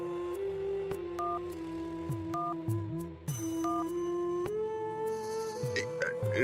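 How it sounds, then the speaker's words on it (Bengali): A phone's dial tones beep in short steady bursts, followed by a ringing tone, with a faint voice and background noise underneath, in an animated cartoon. "রিং হচ্ছে"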